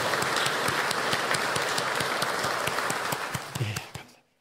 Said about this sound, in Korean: 우리가 박수로 화답하도록 하겠습니다